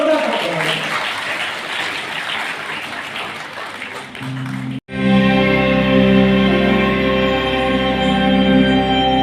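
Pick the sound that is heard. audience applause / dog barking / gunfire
audience applause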